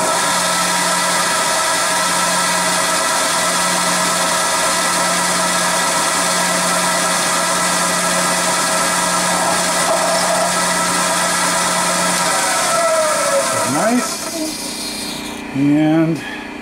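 A steady milling machine drone with a constant low hum fills the clip, rising into a louder whine and brief shifting tones near the end as a center drill engages metal.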